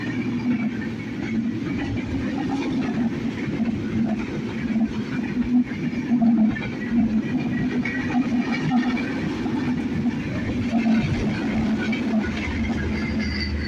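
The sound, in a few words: train passing on railway line beside house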